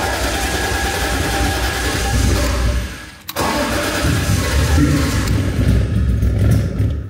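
A BMW engine cranks with a steady grinding churn, stops briefly, then cranks again, loud and close, without catching, after ten years of standing with no fuel in it.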